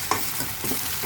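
Ginger garlic paste hits a pan of half-cooked onions, giving a steady close sizzle with soft scraping stirs across the short stretch and no voices.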